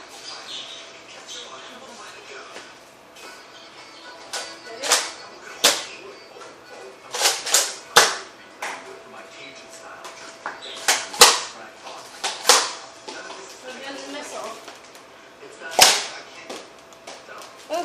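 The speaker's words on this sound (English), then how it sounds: "Okay, firing test." A Nerf Modulus Tri-Strike toy blaster fires several sharp, snapping shots at irregular intervals, mixed with people talking nearby in a quiet room.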